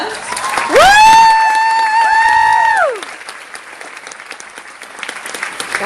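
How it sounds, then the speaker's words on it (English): Loud applause from a training-session audience, with whooping cheers rising over the clapping for about two seconds before the noise drops to scattered, thinner clapping. "Give them a round of applause."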